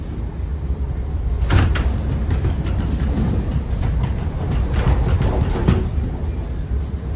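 A Thameslink train runs between East Croydon and Brighton, giving a steady, loud rumble with a few brief rattles and clunks throughout.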